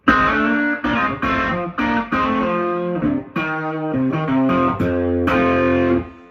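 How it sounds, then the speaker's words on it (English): Heavily overdriven electric guitar through a Fender Blues Deluxe Reissue valve amp plays sustained distorted chords and notes, thick and loud, with brief gaps between phrases and no talking. "to me, that's a healthier sounding distortion"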